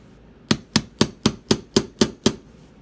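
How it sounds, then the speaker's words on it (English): Eight sharp, evenly spaced hammer strikes flatten metal wire for an ear wire, ringing close and loud at a steady quick rhythm with no talking. "I hammer to flatten this part out"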